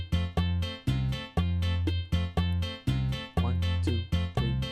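Bachata bass guitar pattern in a remix beat: deep, punchy bass notes repeat in a steady syncopated rhythm under layered harmonic instruments, loud and close with no talking.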